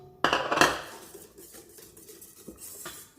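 Eggs, sugar and flour being mixed in a bowl for cake batter, a sharp utensil clatter against the bowl at first, then softer irregular scraping and tapping, with no speech.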